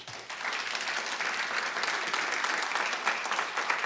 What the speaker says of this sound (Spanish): Denle el mejor aplauso a Dios.